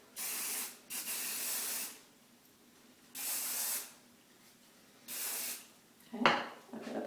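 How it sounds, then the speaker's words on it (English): Hairspray hisses from an aerosol can onto a styled hair bow in four separate bursts of roughly one second each, close and clear with quiet gaps between them, followed by a brief rustle. "I'm just going to spray it so it stays."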